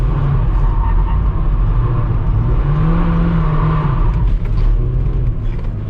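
A Mazda MX-5 drifts with short handbrake flicks, its engine droning loud and steady close by throughout, with tyre and wind roar filling the background and no speech.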